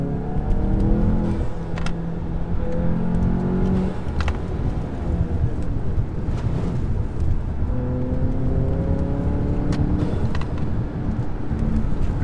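Heard from inside the cabin with windows up, a 2019 Volkswagen GLI fitted with a cold air intake revs in two pulls, its engine note rising and falling over a steady road rumble.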